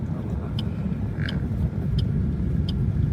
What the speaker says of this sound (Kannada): ಇಲ್ಲೇ ಸೆಕೆಂಡ್ ಗೇರ್ ಹಾಕ್ತೇನೆ